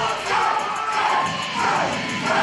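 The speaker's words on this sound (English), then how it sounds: "listen to this crowd" Wrestling arena crowd at a Saturday night event roaring and cheering steadily throughout, a dense sustained wash of voices with swelling whoops and yells rising and falling, fairly loud and close.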